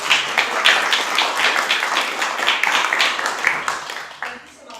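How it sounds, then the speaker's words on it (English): A burst of applause from a small crowd, steady scattered clapping that tapers off toward the end. "We can give everybody a round of applause."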